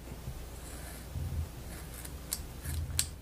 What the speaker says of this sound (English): We're gonna take our nice sharp scissors and make a cut